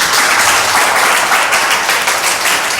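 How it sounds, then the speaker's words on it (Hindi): A church congregation claps together in dense, loud applause with a faintly rhythmic pulse, close and continuous across the whole stretch with no talking. "तो फिर से एक बार बजाओ"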